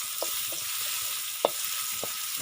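Onions and garlic frying in a pan, a continuous close hiss of oil with a few soft knocks of a spoon stirring through it, no voices.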